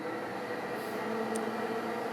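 A shop vac running enclosed inside a silencer cabinet, heard as a steady, muffled whooshing drone with a faint hum, constant and even throughout with no talking.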